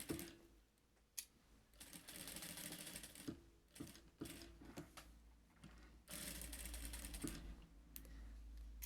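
Sewing machine slowly stitching a curved seam on a child's fanny pack: quiet, uneven bursts of rapid mechanical whirring that stop and restart several times, with clicks and thumps in between.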